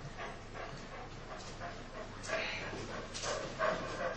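Dog making small yips, whimpers and soft barks indoors, moderately close, mixed with murmured voices in a quiet room.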